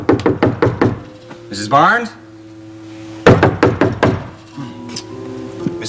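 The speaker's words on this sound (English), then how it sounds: "Why don't you knock louder?" Loud, close knocking on a door in two bursts of rapid, evenly spaced raps separated by a pause, with a voice calling out between them.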